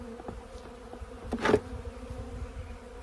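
Honey bees buzzing in a winter hive with dead bees scattered about: a low, continuous hum close by, with one bee's louder buzz swelling briefly midway.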